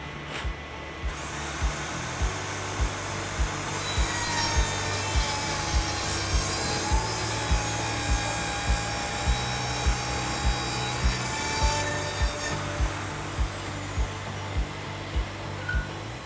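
A steel rod for an electric motor is sawn to length on a cutting line, with a steady metallic grinding drone and regular rhythmic strokes about once a second, plus a faint high whine. No one speaks.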